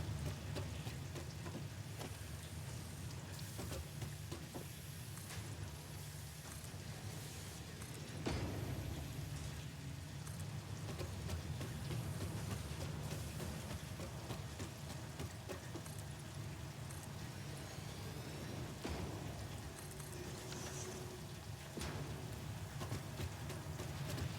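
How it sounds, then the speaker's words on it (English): Steady rainfall in a video game, Satisfactory, hisses continuously, drops pattering on surfaces, with an occasional low rumble underneath; no talking. "And now it's raining."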